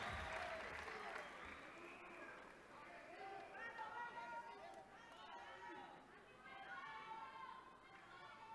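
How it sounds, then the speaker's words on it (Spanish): Spectators at a weightlifting final at the Santiago 2023 Games applaud steadily for a lifter, a soft, distant clatter of clapping with crowd chatter and someone speaking over it throughout. "Aquí aplauden todos apoyando a Gilberto Lemus."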